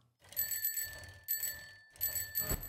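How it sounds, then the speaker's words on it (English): A bicycle bell on a bike in the game 7 Days To Die rings in three quick bursts of bright metallic dings, each with a clear ringing tone, fairly quiet and heard alone. "It actually added a little bell to the bike"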